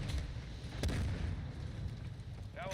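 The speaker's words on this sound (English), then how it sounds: "Our mortar strike is inbound." Mortar strike explosions in a Call of Duty game, heard as a low rumbling barrage with one sharper thump standing out under continuous battlefield noise.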